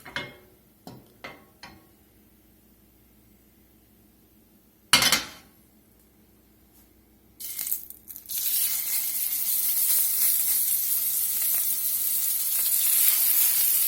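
Hot high smoke point cooking oil in a skillet, heard first as a few scattered ticks and a brief burst, then a loud, steady broadband sizzle that starts around eight seconds and keeps going to the end, with no talking.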